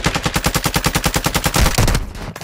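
Rapid automatic gunfire from an enemy in Call of Duty, a steady burst of evenly spaced loud shots lasting about two seconds before cutting off, with no talk over it.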